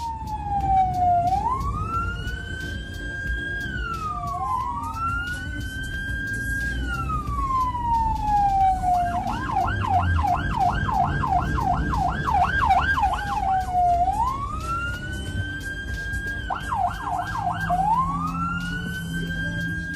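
An ambulance siren cuts through St. Petersburg traffic, alternating between long rising-and-falling wails and rapid yelping bursts. It sounds loud and close over a steady rumble of vehicle engines.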